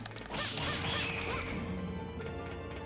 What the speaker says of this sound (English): Why do these, like, lizard men make bird noises?